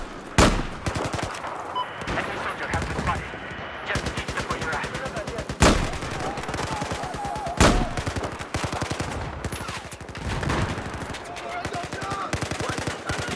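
Battlefield 4 gameplay on Guilin Peaks in Rush mode, with rapid bursts of automatic gunfire and several sharp, loud single shots cracking through, close and repeated in clusters across the clip.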